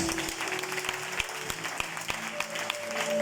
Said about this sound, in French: Acclame Jésus-Christ de Nazareth